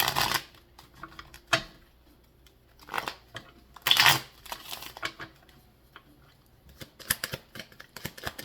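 Playing cards being shuffled and drawn, heard as several separate crisp riffling bursts with quiet pauses between them, close and fairly soft.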